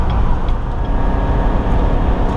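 Chevy Silverado 2500 with the 6.6L gas engine towing a trailer up a highway grade at about 72 mph, a loud steady low engine drone blended with road and wind noise.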